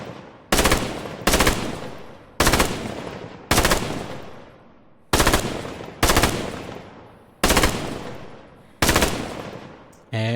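Short, loud bursts of machine-gun fire from the World War II shooter Squad 44 repeat in eight evenly spaced volleys, each a sharp crack trailing into echo, with brief pauses between them.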